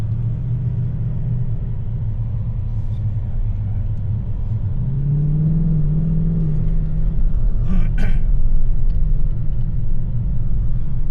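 A car drives a lap of the Bathurst race track, its engine giving a steady, loud in-cabin rumble throughout with a gradual rise in pitch as it accelerates midway.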